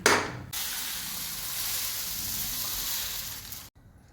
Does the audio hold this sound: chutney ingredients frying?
yes